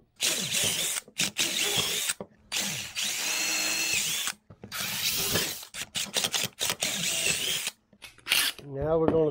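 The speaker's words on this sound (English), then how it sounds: "I can just crisscross right here and drill it in" A power drill drives in and out while building a DIY rod holder, running in loud, close bursts of about a second or two with brief stops, and a voice speaks between some runs.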